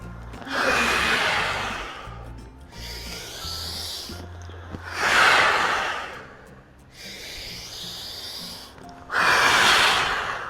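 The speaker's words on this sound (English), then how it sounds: "3 cleansing breaths here" Three slow, deep cleansing breaths during a floor exercise class, each a loud, close, airy exhale lasting about two seconds, separated by quieter inhales.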